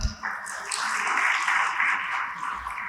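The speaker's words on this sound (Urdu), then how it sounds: "آپ کی بھرپور تالیوں میں۔" An audience at a memorial conference gives a burst of applause that keeps up for nearly three seconds as a panelist is welcomed to the stage, loud and dense from start to finish.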